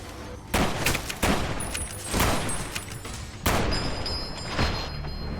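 Enemy plasma weapons firing in Fallout: New Vegas, Old World Blues, heard as several loud broadband bursts in an uneven rhythm, with sustained ringing tones and no talk.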